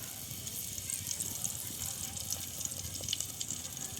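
Whole spices sizzle steadily in hot mustard oil for Bengali aloo dum, a continuous crackling hiss at moderate level with scattered small pops throughout.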